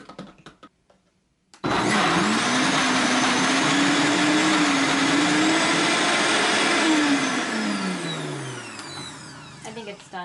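Instant Pot blender crushing ice, a loud steady whirring motor that starts abruptly, holds for several seconds with a wavering pitch, then winds down and falls in pitch as it stops.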